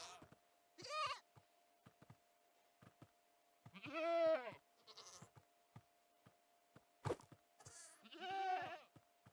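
Goats bleating in Minecraft, three distinct drawn-out cries spaced a few seconds apart, with soft footstep clicks and small game noises in between against a faint steady tone.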